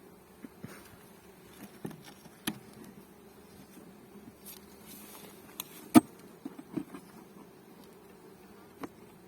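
Honey bees buzz faintly around a hive in a quiet space, with scattered soft ticks and taps, one sharper knock partway through.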